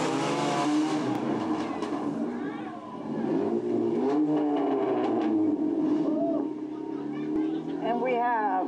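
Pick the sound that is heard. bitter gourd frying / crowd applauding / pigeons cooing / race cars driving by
race cars driving by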